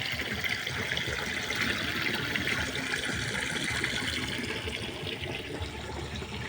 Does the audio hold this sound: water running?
yes